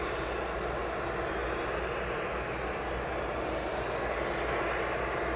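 A DHL cargo aircraft at East Midlands Airport gives off an unbroken, even jet engine roar at moderate distance, with no break or other sound over it.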